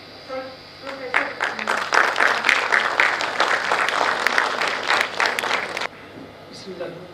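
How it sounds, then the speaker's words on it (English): An audience of teachers at an academic training programme bursts into dense, sustained applause that swells quickly, holds for several seconds, then stops abruptly. "Can we ask for a robust applause for Professor"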